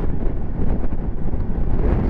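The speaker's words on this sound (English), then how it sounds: "it's very, very windy" Strong wind buffeting the microphone while riding a 2022 Triumph Tiger Sport 660 motorcycle, a loud, continuous low roar that fills the whole stretch without a break.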